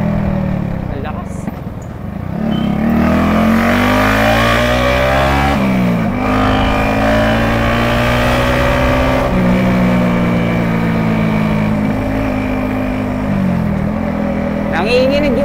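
A Yamaha XSR motorcycle engine drones while riding, loud and close, its pitch climbing and dropping through the gear changes, with heavy wind rush throughout.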